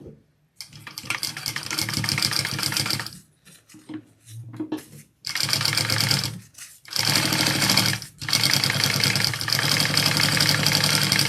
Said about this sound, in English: I am going to just sew along the top real quick and get those two connected.